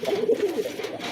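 Male pigeon cooing steadily and close, low throaty calls repeating through the moment right after being paired with a female.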